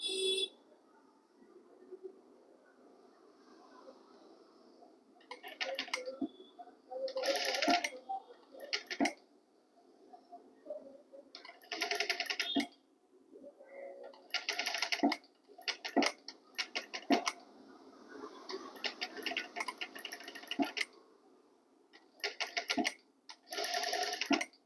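A sewing machine stitches thread piping onto a blouse in bursts of rapid, rhythmic clatter, with quiet pauses between runs and faint room noise.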